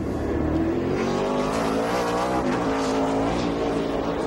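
NASCAR race cars at the 2007 Toyota/Save Mart 350 accelerating off pit road, engines howling loudly as they climb through the gears, with rising pitch sweeps and a dense, continuous roar.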